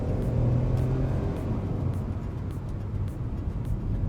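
A Hyundai Creta Limited 2022 with a 1.0 turbo engine accelerates in sport mode, heard from inside as a steady, moderate engine rumble and road noise with no talking.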